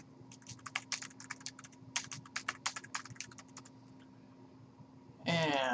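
Quick, uneven keystrokes on a computer keyboard as a username is typed, clattering close and clear for several seconds before a voice begins speaking.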